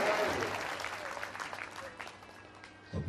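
An audience at a sermon in an ashram claps, a dense wash of applause that gradually fades over a few seconds, with a voice audible over it.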